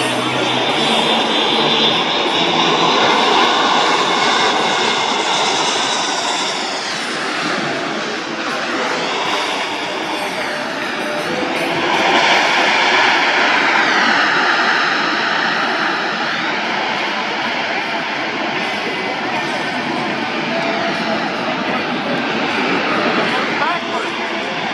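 A military transport aircraft roars through an assault landing at a Blue Angels airshow, its loud engine noise sustained and rising and falling throughout, with an announcer talking over it.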